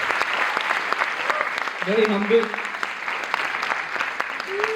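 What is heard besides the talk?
audience applause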